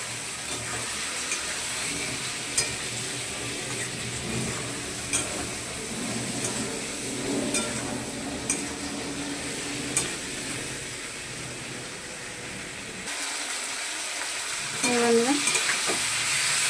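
Poppy seed paste with green chilies sautés in a pan, giving a steady sizzle with occasional scrapes of a stirring spoon, and a brief watery clink near the end.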